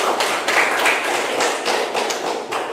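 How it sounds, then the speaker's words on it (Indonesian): Classroom group clapping for the first presenting group, a dense, steady wash of many hands close by with no voices over it. "Ya, tepuk tangan dulu untuk kelompok 1."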